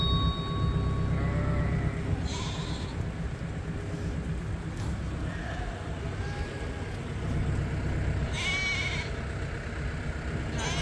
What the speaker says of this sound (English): we got a nice little flock here